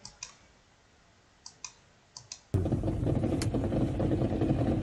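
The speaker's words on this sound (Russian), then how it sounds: "Щелчок на 47-й секунде. Слышали? Слышали щелчок?" A few sharp, isolated clicks from a played recording tick out faintly over a quiet background, then a sudden loud, steady roar fills the rest.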